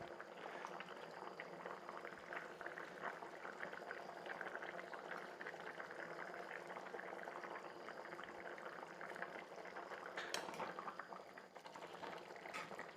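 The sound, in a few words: fish curry with bamboo shoot coming to a boil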